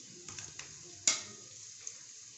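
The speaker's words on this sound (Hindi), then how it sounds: "अब मैं नीचे से चूल्हा जलाऊंगी और इन आलुओं को ढांप दूंगी ताकि ये मक्खन में थोड़ा गल जाए" Potatoes in butter give off a faint, steady sizzle in a pan on the stove. One sharp metallic clank cuts in midway, along with a few light taps, and no one speaks.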